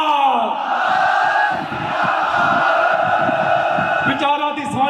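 Sikh crowd at a large religious gathering shouting a jaikara war cry, many voices roaring together in a loud sustained collective shout that swells and holds for several seconds.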